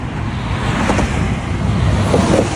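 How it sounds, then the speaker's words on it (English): A swollen river rushes high against its banks, a loud, steady broadband roar of flowing water mixed with wind buffeting the microphone. "The river's swelling up the banks. There's a river up there. Pretty noisy."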